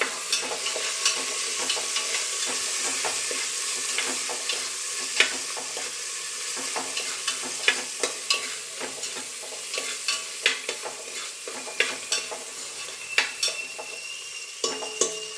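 Tomatoes sizzling and frying in a pan while a utensil stirs them, with steady crackling hiss and frequent sharp scraping clicks against the metal, close and continuous with no talk.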